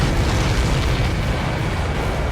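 A missile explosion in the Ace Combat 7 jet combat game, heard as a loud, sustained, broadband rumble that fills the whole moment without any talking.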